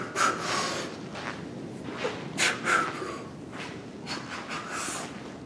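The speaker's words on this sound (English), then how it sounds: "Now this is where I breathe." Forceful breathing during a log clean and press, a series of sharp nasal snorts and heavy breaths, close to the microphone, over a low steady background.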